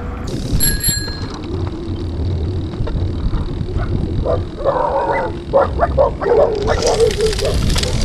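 A dog barks a few times close by, along with a bicycle bell ring and steady road noise, while a person talks.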